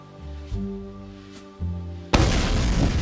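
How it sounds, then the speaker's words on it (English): A shotgun loaded with explosive rounds fires in the VR shooter game H3VR. Soft thumps over tonal game sound lead to one loud, sharp blast that rings out at the end. "I have explosive rounds in my shotgun."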